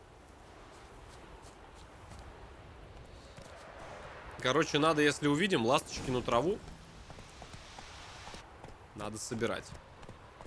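In The Witcher 3 video game, Roach's hooves clip-clop in short bursts over a quiet outdoor background, while someone talks over the hoofbeats.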